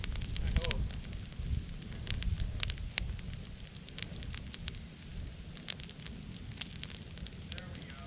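A backing fire burns in a field during a spring prescribed burn, with steady crackling and frequent sharp pops over a low roar of flames and wind, heard close up.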